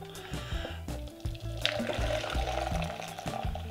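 Half a pint of boiling water is poured into a container for layered jelly, a gurgling, filling splash with shifting pitch as the vessel fills, close and steady, with some faint clatter early on.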